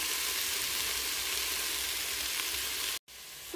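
Carrots and garlic frying in a pan, a steady broadband sizzle that holds evenly for about three seconds, cuts out briefly, then resumes close by.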